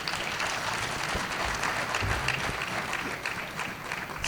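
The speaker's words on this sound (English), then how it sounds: "He deserves a round of applause." An audience at a leadership talk applauding, a dense wash of many hands clapping at a fairly low level, steady for several seconds without a clear peak.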